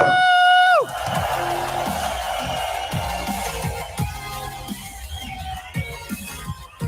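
Excited crowd cheering and whooping at a live event, loud roar with sharp shouts and repeated rhythmic chant-like bursts after an opening yell.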